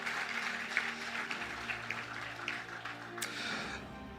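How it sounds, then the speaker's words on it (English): An audience at a distinguished alumni lecture claps for the lecturer, a moderate, slightly uneven patter of hands over a low hum of the hall, with a brief sharp clack near the end. "Please do a big round of applause for him one more time."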